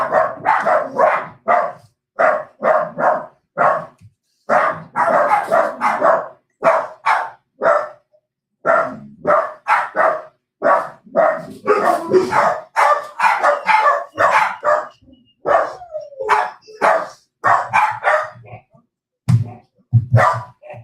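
A dog named Remy barks repeatedly indoors in sharp, loud bursts, mixed with whines and yips, the barks coming in rapid irregular runs for the whole stretch.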